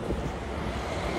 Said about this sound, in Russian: Ветер, конечно, прохладный.